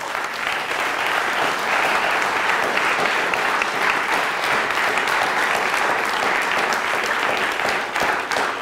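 A lecture audience at UCLA applauds loudly and continuously, a dense roomful of clapping sustained at an even level throughout.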